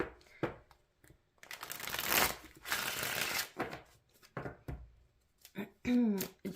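A deck of tarot cards shuffled by hand in a series of crisp riffling bursts, some short and some sustained, with a brief voice-like sound near the end.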